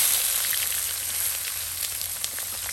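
Chopped onion sizzles in hot oil, a bright, steady crackling hiss with scattered small pops, close and continuous with no talking.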